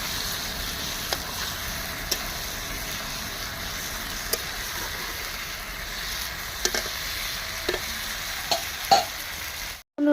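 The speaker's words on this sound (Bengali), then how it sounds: "ভুনা ভুনা চিকেন, পুরো কাঠের জালে রান্নার মজাই আলাদা" Chicken fries in a pot over a wood-fired clay stove, giving a steady close sizzle with occasional scrapes and knocks from stirring, then stopping abruptly at the end.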